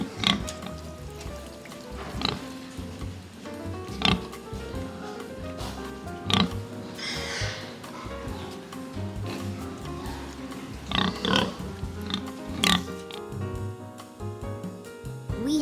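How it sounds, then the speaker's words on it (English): Pigs on a farm grunt and oink in repeated short bursts at irregular intervals, fairly close and moderately loud over a soft continuous background. "I have to feed the pigs."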